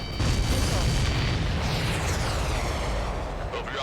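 A missile explosion in a video game, a loud, sustained roaring blast with rumbling low end and crackling debris that fills the whole moment without letting up.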